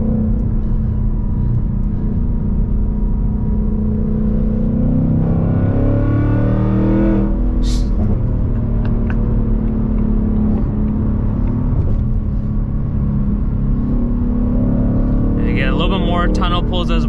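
A 2024 Mustang GT with long tube headers accelerates on a highway, a loud deep engine rumble that climbs steadily through the gears, heard from inside the cabin with a voice talking over it.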